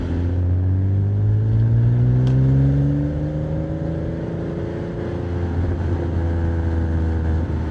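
A Porsche 987 Boxster engine pulls steadily through the gears, its tone rising smoothly and then easing off, with a continuous droning hum throughout.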